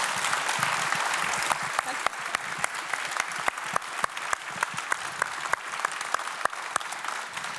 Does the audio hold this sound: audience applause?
yes